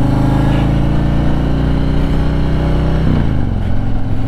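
A Harley motorcycle engine runs loud and close, its low rumble shifting pitch around the three-second mark as the rider heel-toe shifts, with no talk over it.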